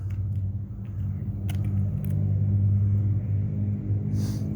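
Loud vehicles rumble past with a heavy low engine drone that swells and fades, no voices.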